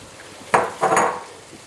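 A utensil scrapes and clatters in a pan as ginger and green chilli paste is stirred into mango pickle, two close bursts of stirring over faint kitchen quiet, with no talk.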